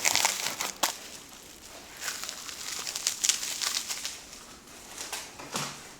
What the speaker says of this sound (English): It's probably the least conventional way to wrap a shot glass,